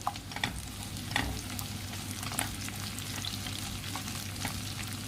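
Scraped, cleaned drumstick pieces sauté in a pan, a soft steady sizzle broken by scraping stirs and a few clinks of the spoon, fairly close and fairly quiet.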